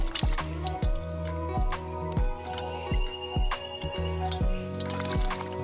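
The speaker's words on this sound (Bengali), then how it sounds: "এই আমগুলো ভালো করে ধুয়ে নিচ্ছি" Raw green mangoes from a home garden are washed by hand in water, with repeated rhythmic sloshing, drips and squishy splashes, close and fairly loud, and no speech.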